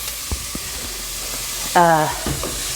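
Salted onions sweat in a pan with a gentle steady sizzle, broken by a few soft knocks of a utensil and a brief clatter near the middle, heard up close without talk.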